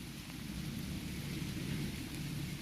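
Rain falls in a steady, dense hiss with a low rumbling undertone, fairly quiet and uniform throughout, no voices.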